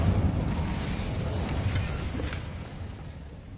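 Incendio fire spell cast in the Hogwarts Legacy video game: a loud, roaring burst of flame with a heavy low rumble that steadily fades over a few seconds, with no talk.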